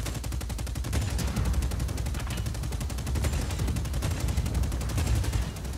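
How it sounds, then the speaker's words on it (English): In Just Cause 4, a tank fires its minigun in a rapid, evenly spaced stream of shots with heavier rocket blasts mixed in, continuous and dense throughout, moderately loud with no voices. "So you can shoot your rockets and you can shoot your minigun"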